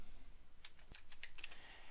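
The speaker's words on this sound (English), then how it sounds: "All I have to do now is start typing" A computer keyboard is typed on nearby, a quick run of about a dozen light, crisp key clicks in irregular rhythm over a quiet room.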